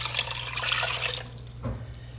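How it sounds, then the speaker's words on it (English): Tangelo juice pours in a steady splashing stream into melted butter and brown sugar in a pan, close and moderately loud, tapering off after about a second with a faint trickle and thump, no talking. "we're going to add in the brown sugar now and the Tangelo juice"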